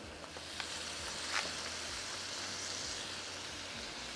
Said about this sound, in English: while I'm waiting for the bacon to fry